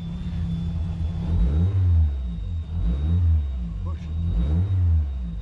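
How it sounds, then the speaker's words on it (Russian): Sports car engine revving at a motorsport event, several throaty rising and falling revs in quick succession, close and loud. "Вот этот рев мотора, да, он прям будоражит и впечатляет."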